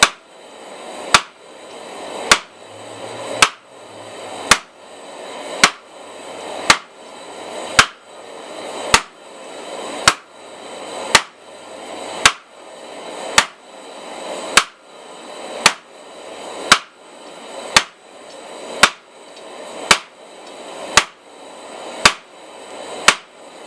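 A hammer strikes hot steel on an anvil, forging a taper for a leaf key chain: about twenty sharp, ringing blows land in a steady, unhurried rhythm, each one loud and close with a brief decaying ring.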